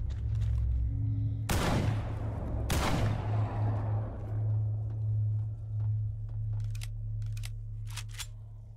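Two loud AK rifle shots with HP rounds in the STALKER GAMMA video game, each a sharp blast with a decaying tail, over a steady low hum, followed by faint scattered clicks.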